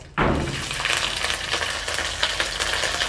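Ginger paste hits hot oil already tempered with dry chilli, panch phoron and bay leaf, setting off a sudden loud sizzle that settles into steady close frying crackle.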